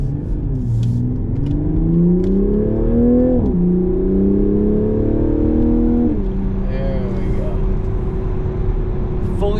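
A stock 2021 Toyota Supra 3.0 engine revs up in rising sweeps on acceleration, then settles into a steady drone, heard loudly from inside the car.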